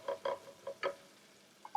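A thick vegetarian black bean sauce mixture being stirred for Korean jajangmyeon, giving a few short, wet squelching taps in an irregular rhythm, close and fairly quiet, with no talk.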